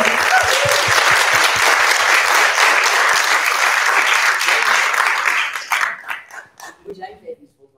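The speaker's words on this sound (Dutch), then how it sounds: "Dus een heel groot applaus voor hen." Audience applause at a zine presentation, loud sustained clapping from a crowd that fades after about five seconds into scattered claps and quiet murmuring.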